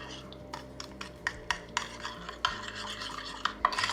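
A spoon stirs a coleslaw dressing seasoned with salt and pepper in a bowl, with rhythmic clicking and scraping strokes repeating about every half second, close and fairly quiet.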